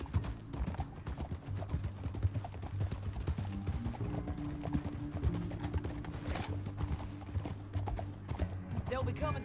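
Horse hooves clip-clopping in a steady galloping rhythm in Red Dead Redemption 2, with a brief whinny, under ongoing game voices and talk.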